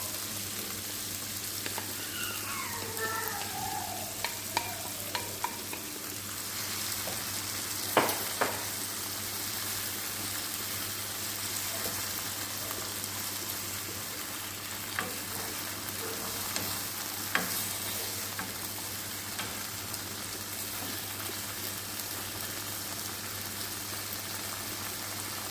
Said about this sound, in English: because I'm going to fry the saltfish a little bit as well